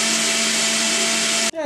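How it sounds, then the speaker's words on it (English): Blender whirring at full power as it blends a carrot cocktail with ice, a loud steady roar with a constant hum that cuts off abruptly and winds down at the end. "set that up on the blender and prepare, cause it's about to be very loud"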